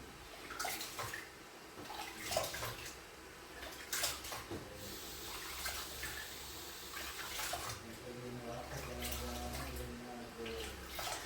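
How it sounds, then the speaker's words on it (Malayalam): Gentle, faint swishing and splashing of water as rice is rinsed by hand for jaggery pongal, with soft intermittent sloshes and drips. "നമുക്ക് അരി കഴുകി എടുക്കണം."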